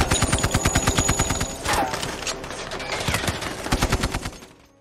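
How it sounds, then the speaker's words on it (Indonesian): A heavy exchange of automatic gunfire from the film 13 Hours, set in Benghazi, with rapid overlapping bursts and shots firing continuously at high volume before trailing off at the end. "Aksi jual beli peluru tak dapat terhindarkan."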